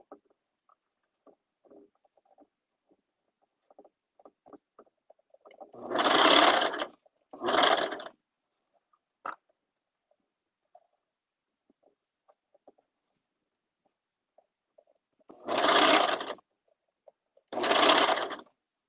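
A serger sews through three layers of thick, bulky knit fabric, run slowly in four separate bursts of whirring stitching with quiet pauses and faint handling noises between them.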